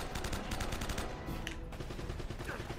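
Gunfire in the action game Uncharted: Drake's Fortune, a rapid, fairly quiet stream of automatic shots in a continuous clattering burst, with no talking over it.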